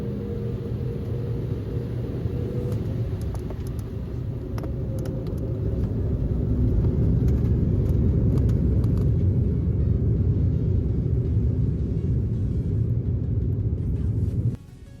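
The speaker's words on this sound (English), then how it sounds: "it was finally our time to take off" A Royal Air Maroc airliner takes off, heard from inside the cabin as a loud, steady low roar that swells partway through and stays strong until it cuts off near the end.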